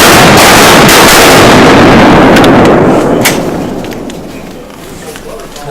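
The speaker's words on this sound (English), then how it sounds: "That wasn't the best shooting." Shotguns fire during a duck hunt from a boat dock: a quick cluster of loud, sharp blasts up close, their booming echoes fading over several seconds, with voices nearby.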